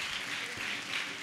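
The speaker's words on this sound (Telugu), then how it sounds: "ఒకసారి చప్పట్లు కొట్టండి." A church congregation applauding at a gospel revival meeting, a dense, loud wash of many hands clapping together throughout the short moment.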